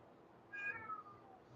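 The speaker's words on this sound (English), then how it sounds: "Oh, there's Mama Kitty." A cat gives a single short, fairly quiet meow, rising then falling in pitch, over a faint background hum.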